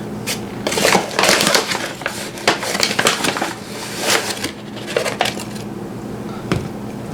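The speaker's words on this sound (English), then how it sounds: "you're going to put in 4 cups of flour" Flour scooped by the cup for salt dough gets dumped into a bowl, giving repeated close scraping, crunching and clattering bursts with short pauses between pours.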